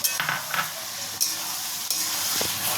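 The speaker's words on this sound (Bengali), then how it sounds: "এবার আমি প্রথমে এটাতে অ্যাড করে দেবো হচ্ছে এই যে ভাজা আলুগুলো" Fried potatoes are stirred into a sizzling spice masala in a pan, where a loud continuous sizzle is broken by several sharp spatula scrapes and knocks.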